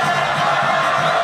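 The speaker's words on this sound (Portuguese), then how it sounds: "Na arquibancada, a torcida faz um show à parte." Palmeiras supporters roar from the stands of a football stadium, a dense, steady wall of crowd noise with no breaks over the short stretch.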